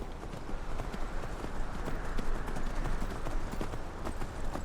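A horse's hooves clip-clop in a steady trotting rhythm along a road in Skyrim, close and continuous with no talking.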